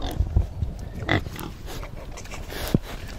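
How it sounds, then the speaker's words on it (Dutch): An organic pig grunts and snorts in short irregular bursts up close, several rough grunts spread over a few seconds against a noisy farm background. "Ja, echt een biologisch varken."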